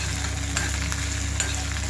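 Tempering spices for a toor dal (kandi) chutney sizzle in hot oil, a close, constant frying hiss with a few sharp pops and a low steady hum beneath, no voices.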